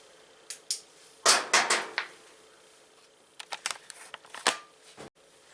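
Small metal screws being backed out of an appliance door hinge, heard as scattered sharp clicks and scraping ticks in two loose bursts separated by a short pause, close and fairly quiet with no talking.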